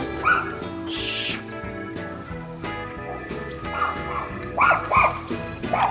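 A dog barks several times in short, loud bursts backstage at a media education tournament, with whimpering yips between barks and some faint voices in the room.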